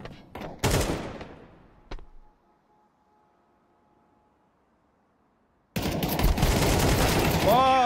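Gunfire in a tactical shooter video game, a few sharp close bursts, then near silence with a faint hum, then a sudden loud sustained spray of rapid automatic fire.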